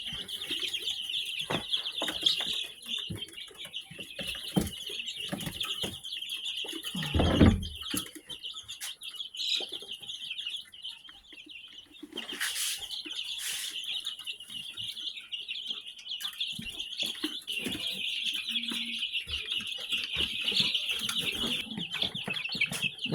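Week-old Cornish cross broiler chicks in a brooder chirp constantly, a dense, high, overlapping peeping that runs steadily from start to finish at close range, with occasional louder clucks and bumps.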